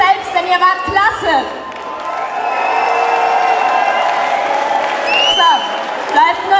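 Reggae festival audience cheering, whooping and applauding at the end of the night, a steady loud crowd roar with shouts rising on top.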